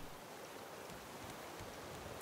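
Rain in the survival game Raft falls as a steady, dense hiss of drops, continuous and even throughout, with no voices over it.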